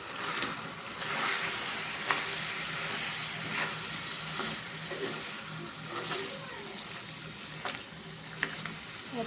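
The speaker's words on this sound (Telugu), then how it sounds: "చికెన్ని బాగా ఫ్రై అవ్వాలండి బాగా ఫ్రై అయిన తర్వాత దింపేసుకుందామండి" Chicken frying in a pan with chilli powder, coriander powder and chicken masala, a steady dense sizzle with occasional sharp clicks of stirring, close and loud throughout with no talking.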